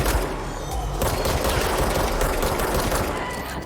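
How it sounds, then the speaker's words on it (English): Gunfire in the video game Control, a loud, sustained barrage of rapid shots and booms close by, with no break. "I don't know who he's shooting at, but I'm glad he's shooting at him."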